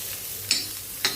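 Onion cooks in a little oil in a pan, a soft steady sizzle broken by two sharp scraping taps of a spoon about half a second apart.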